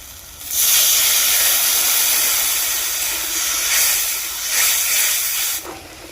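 Water poured into a hot pan of spices with turmeric powder sets off a loud, steady sizzling hiss lasting several seconds, rising and dipping slightly before cutting off abruptly.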